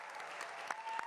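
Applause from an audience at the opening-day event for a New York City recreation center, a steady wash of clapping lasting about a second, fairly quiet and distant, with a faint tone running through it.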